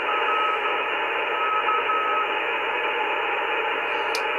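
An Elecraft K2 QRP transceiver receiving a radio signal gives off steady band-limited static hiss with a faint thin tone inside it. The sound is even and continuous, with no voices.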